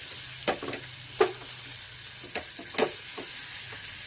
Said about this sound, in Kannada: ಈಗ ಇದನ್ನು ಮಿಕ್ಸ್ ಮಾಡ್ಕೊತಾ ಇರ್ತೀನಿ.